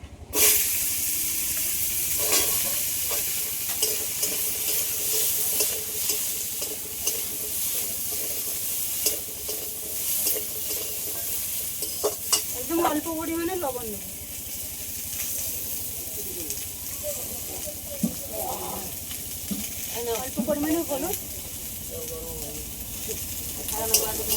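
Bitter gourd greens and potatoes fry in a pan with a bay leaf, a steady sizzle running throughout with occasional stirring scrapes, while a voice talks faintly over parts of it.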